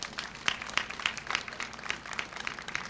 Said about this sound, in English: But Betty Hager Francis, we give her a round of applause.